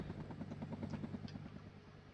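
A helicopter thumps overhead in the real-time strategy game WARNO, a rapid steady rotor beat that stays distant and fairly quiet throughout.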